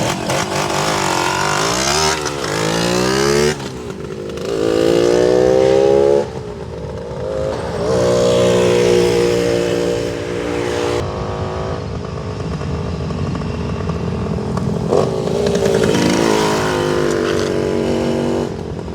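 1971 Yamaha AT1 125 Enduro two-stroke single running loud and close, revving up and down repeatedly with a buzzy, rising and falling engine note throughout.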